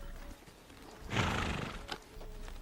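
Wild Takhi (Przewalski's) horses call with one loud neigh that swells and fades over about a second, then a faint snort and a few soft hoof sounds in an open outdoor setting.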